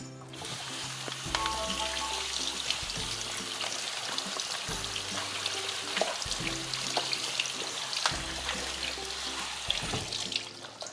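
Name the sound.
potatoes rinsed under running tap water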